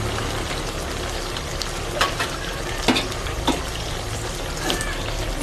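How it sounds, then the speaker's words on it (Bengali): Water from the mixer jar poured into mustard paste in a hot pan while cooking Bengali shorshe chicken, producing a loud continuous sizzle and bubbling hiss with a few sharp clinks and spatters. "আমি মিক্সিতে যে সর্ষেটা পেস্ট করেছি মিক্সির জলটা দিলাম।"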